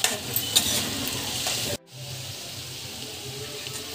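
Potatoes fry in a pan as spices are stirred in, with a loud close sizzle and scraping that drops abruptly partway through and then continues more quietly. No talking.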